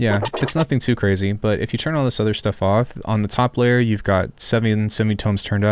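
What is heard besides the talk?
No everyday noise stands out behind the speech.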